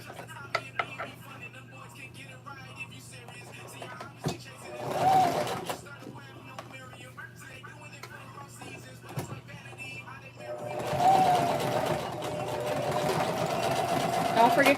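Sewing machine stitching a girl's skirt closed, running in two short whirring bursts between quiet handling clicks and fabric rustle, with a person talking nearby.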